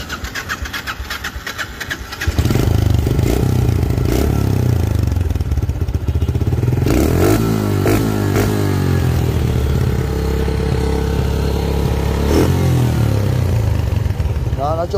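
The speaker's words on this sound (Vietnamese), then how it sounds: "Test thử máy anh em nghe thử vòng này." A 2011 Yamaha FZ-S 150cc motorcycle with an aftermarket Slakovic exhaust idles, then the engine revs up and down repeatedly, loud and close, with a throaty exhaust note throughout.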